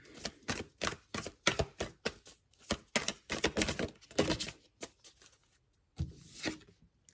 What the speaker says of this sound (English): you just saw me shuffle these cards